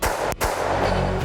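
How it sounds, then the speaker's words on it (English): A Springfield XD-M Elite 3.8 compact 10mm pistol fires at a target: loud, close booming reports in quick succession, with heavy echo filling the gaps between shots. "I'm gonna shoot the magazine out on this target, and I'm gonna pick up the pace slowly"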